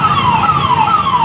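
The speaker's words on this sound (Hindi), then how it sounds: "देखो पुलिस की गाड़ी आ गई गाड़ियों को उठाने" A police car siren wails in repeated rising-and-falling sweeps on a street where vehicles are being towed, loud and close over steady traffic rumble, with no talking.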